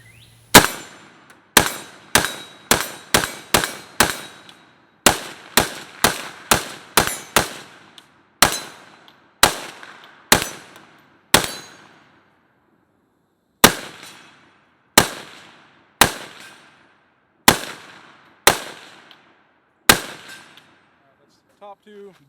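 A Palmetto State Armory AKP rifle fires loud, sharp shots outdoors, in quick clusters of several rounds separated by short pauses, each crack ringing with a brief echo over about twenty seconds.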